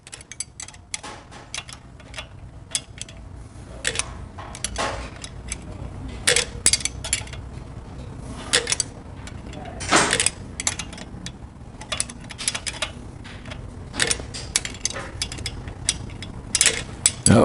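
A wrench ratchets a lock nut loose on a Harley-Davidson Panhead engine during a cam change, giving close, irregular clicking bursts of metal over a steady low background hum, with no talking.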